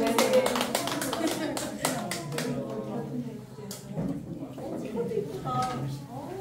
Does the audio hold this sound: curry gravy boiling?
no